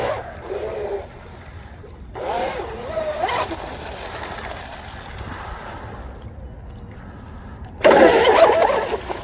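A 1/8 scale RC drag boat's small motor whines and revs in bursts with pauses between, fairly close, over a background of water and outdoor noise.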